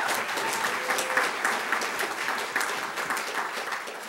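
An audience applauds during a senator's speech in February 2018, a steady, full wash of many hands clapping at once that holds evenly from start to finish.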